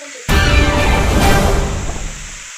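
Loud, steady sizzling of pork on a hot grill pan, starting abruptly and crackling continuously before easing slightly at the end.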